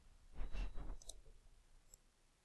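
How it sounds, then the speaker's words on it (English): A computer mouse clicks while drawing in GeoGebra, a couple of quick close clicks over faint background rustle, with no voices. "So we'll click here."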